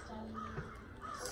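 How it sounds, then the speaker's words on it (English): A couple of crows caw in the distance over a steady outdoor background, harsh calls rising briefly and then fading. "That's those crows."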